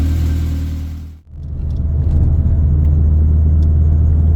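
A Fiat Punto HGT 1.8 16V engine fitted with Colombo & Bariani camshafts rumbles loudly up close, briefly dipping before building back to a steady, heavy drone.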